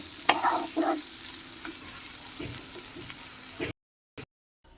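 Spices with a piece of cinnamon being stirred in a hot pan, with a few scraping strokes over a soft, steady sizzle. No one speaks, and it ends abruptly.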